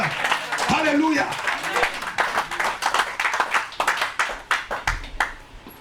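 A church congregation claps in a fast, steady rhythm, a dense run of sharp hand claps close by. A voice calls out over the first part before the clapping carries on alone.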